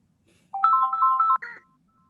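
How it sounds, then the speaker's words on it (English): A phone ringtone plays one short, loud electronic melody of stepped tones in a meeting setting, then cuts off into quiet, with no speech over it. "I think she's ringing you now"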